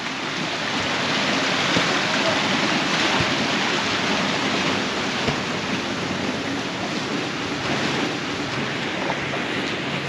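Fast mountain stream water rushes steadily and loudly, driving small water-powered prayer wheels along the trek between Phakding and Namche Bazaar in Nepal, a constant broadband roar with no pauses.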